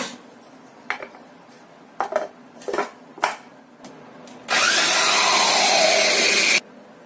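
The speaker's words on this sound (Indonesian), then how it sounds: "Kemudian kita blender sampai halus." A blender whirs loudly and steadily for about two seconds as it purees a thin coconut milk mixture, following a few sharp clinks of dishes and utensils in a kitchen.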